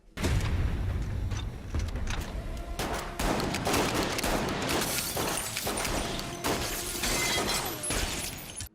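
Dense, loud gunfire from the action movie The Beekeeper, a sustained barrage of overlapping shots with shattering and impacts that runs continuously for about eight seconds.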